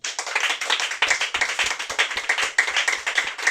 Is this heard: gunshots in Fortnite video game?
no